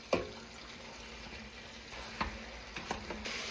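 Ground beef browning in a pot for chili gives a faint, steady sizzle with a few soft scrapes and clicks of stirring scattered through it.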